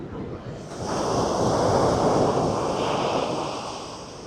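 Ocean surf rolling in at Sydney harbour, a broad steady roar of breaking waves that swells after the first second and holds loud and close, with some wind rush over the microphone.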